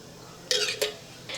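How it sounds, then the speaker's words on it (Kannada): Dry coconut roasting with a little oil in a pan, heard as a few brief metallic scrapes and clinks of a utensil against the pan, spaced apart over a quiet background. "ಇದಕ್ಕೂ ಸ್ವಲ್ಪ ಎಣ್ಣೆ ಹಾಕಿ ಹುರ್ಕೋಬೇಕಾಗ್ತದೆ ರೀ."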